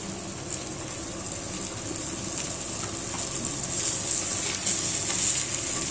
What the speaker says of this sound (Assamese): এনেকৈ 1 মিনিটমান সময় হাই ফ্লেমত ভাজি ল'ম।